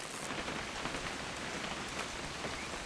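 Steady rain falls in the video game What Remains of Edith Finch, a dense, even hiss of drops on surfaces heard alone and close throughout, with no voices.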